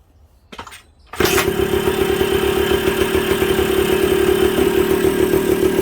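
A Suzuki TS125 motorcycle kicks over and fires up after a brief struggle, then settles into a loud, steady, close, slightly uneven idle that runs throughout, with no talking.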